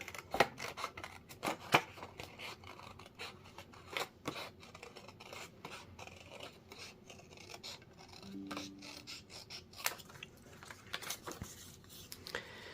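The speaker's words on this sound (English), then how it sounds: "I'm just going to do that with a really quick, simple cut all the way around those trees" Scissors snip around tree shapes on cardstock with quick, close, repeated cuts. Crisp snipping mixes with a papery rasp as the card is turned and cut.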